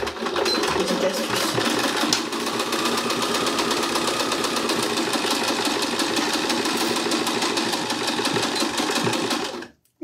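A sewing machine stitches fabric during a live sewing session, running as a loud, fast, steady mechanical chatter for about ten seconds before stopping abruptly.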